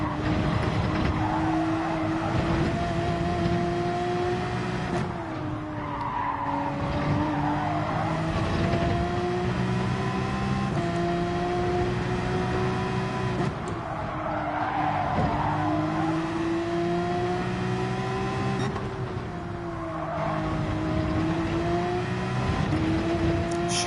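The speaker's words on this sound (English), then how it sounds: "Sometimes in your earphones you can hear the engine of the other player" Race car engines in the Gran Turismo 7 racing game, a loud continuous engine whine rising and falling with gear changes and cornering, with tire squeal mixed in and no talking.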